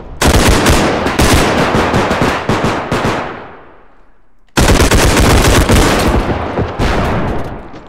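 Loud, close bursts of machine gun fire in a realistic bodycam-style first-person shooter, two long sustained volleys separated by a brief pause, with no talking over them.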